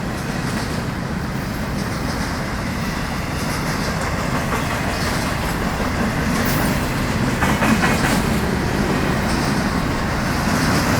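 A Florida East Coast Railway freight train rolls past close by, a steady heavy rumble with rhythmic clickety-clack of wheels over rail joints, loud and sustained the whole time.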